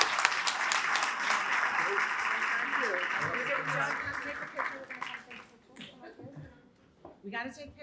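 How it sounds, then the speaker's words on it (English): Audience applause for honoree Annette Ostrand at a 2023 Italian Heritage Month celebration: steady, dense clapping that thins out over the last few seconds as voices start talking over it. "Let's give now a round of applause to our honoree"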